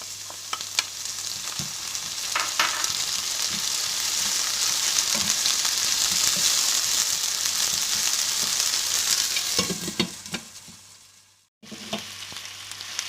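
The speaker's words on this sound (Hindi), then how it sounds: "लहसुन अदरक इसमें डाल दिया मैंने। अब इसकी हम थोड़ी सी प्याज के साथ भुनाई करेंगे।" Steady, loud sizzling of garlic-ginger paste frying with onions in a pan, with occasional stirring scrapes and clinks, briefly cutting out near the end before resuming.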